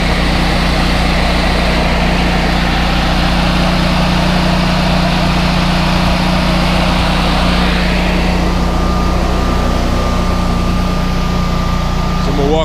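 Generac 24 kW standby generator running steadily just after start-up, a loud continuous engine hum with exhaust on one side, and a thin steady whine joining partway through.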